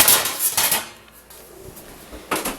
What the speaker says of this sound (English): now we gotta get our baking pan out